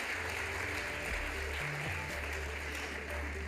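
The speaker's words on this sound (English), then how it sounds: "Please give them another round of applause" An audience at a global health summit applauds speakers leaving the stage, a soft, steady wash of clapping heard from a distance under a low hall hum.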